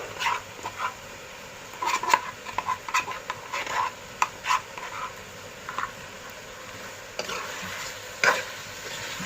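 Masala paste frying in a pan for mutton curry, with scattered clicks and scrapes of stirring against a steady background sizzle, fairly close and without speech.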